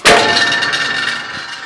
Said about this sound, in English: grab a hold of the hammer, pull it all the way back, let it go.